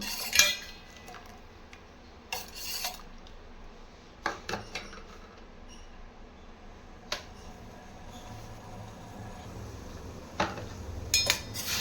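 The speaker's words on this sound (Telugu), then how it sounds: "ఇలా కలుపుతూ రాగి జావను ప్రిపేర్ చేసుకోవాలి" A metal spoon stirring ragi porridge in a pot, giving scattered sharp clinks and scrapes against the vessel over a quiet background, with no talking.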